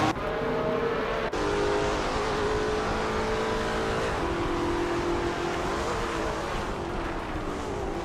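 A 1975 Fiat X19 in a racing video game, its engine droning steadily at high revs with pitch shifting slightly as it runs, loud and continuous, with no speech.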